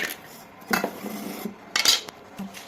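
Roasted sambar powder ingredients, chillies and curry leaves, tipped into a dry grinder jar, heard as a few separate clinks and rattles of spoon and jar with quiet gaps between them.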